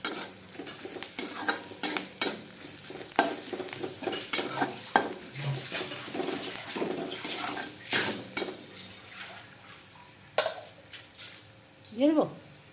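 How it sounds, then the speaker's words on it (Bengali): Onions fry in oil in a pan while a spoon scrapes and clanks against the metal in quick repeated strokes over a steady sizzle, with a voice speaking briefly near the end. "পেঁয়াজটা ভাজা ভাজা হইতেছে।"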